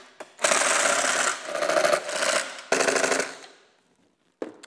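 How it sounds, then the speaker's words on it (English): An impact driver fitted with a number three bit hammers fasteners tight on a trolling motor mounting plate: several loud rattling bursts close by, broken by brief pauses, with no talking. "take our impact with our number three on it, put it in there and get everything nice and snug"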